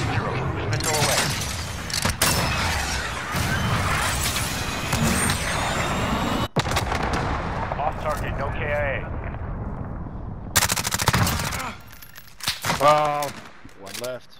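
A cruise missile launch and explosion in the Modern Warfare 2 video game, with loud sustained roaring and rumbling blasts, bursts of gunfire, a short cutoff midway and game radio voices talking over it.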